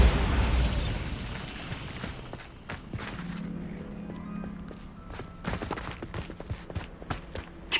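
A Bombarda blasting spell in Hogwarts Legacy bursts with a loud, broad boom at the start, then fades into rumbling debris and scattered impacts and footsteps, with a low hum of game ambience.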